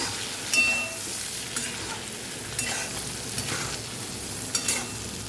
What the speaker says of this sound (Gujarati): અહીંયા આપણે 2 મિનિટથી પાકતા હતા આપણા મરચાં.